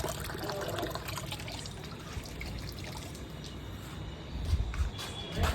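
Water trickles and dribbles from an upside-down tap while hands are washed outdoors, a faint steady splashing over low background noise with a few louder splashes near the end.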